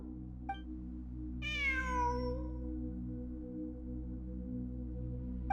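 A single clear, drawn-out cat meow in the video game Genshin Impact, falling in pitch and fairly close, set against a constant low droning game ambience with a soft click just before.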